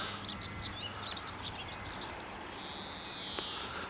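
Small birds sing and chirp from trees and bushes on a Somerset farm park, a scatter of quick, fairly faint calls over soft outdoor background hush, with one longer whistled note near the end.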